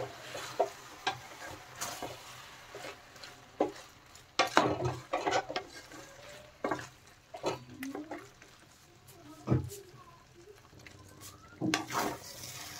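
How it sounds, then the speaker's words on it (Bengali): Cooked mixed vegetables being stirred with garam masala paste and sugar for a Bengali pachon, irregular scraping and clattering of a spoon in the pot over a soft simmering sizzle, with no voices. "গরম মশলা বাটা আর চিনি ভালোভাবে সবজির সাথে আমি মিশিয়ে দেব"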